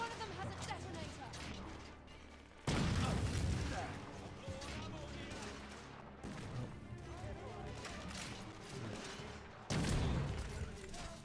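Gunfire and heavy impacts from the cover-shooter video game The Order: 1886, with dense loud bursts around three and ten seconds over continuous battle noise and some game speech.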